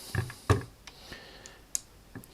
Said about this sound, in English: So it's a leaf shutter.